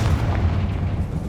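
A deep, rumbling blast from the Confringo spell in Hogwarts Legacy, heavy low-end boom filling the short moment with a sustained roar in an old mine.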